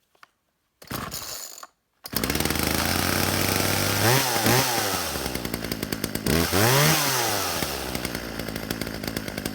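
A small two-stroke chainsaw engine is pull-started a couple of times with the choke, then catches and runs loudly, rising into two sharp revs before settling back to a steady idle.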